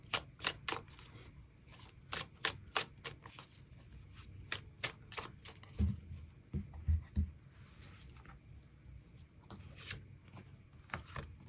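Tarot cards being shuffled and drawn, a steady run of crisp riffling flicks and soft slaps, with a few heavier thumps of cards landing midway, close and fairly quiet with no talking.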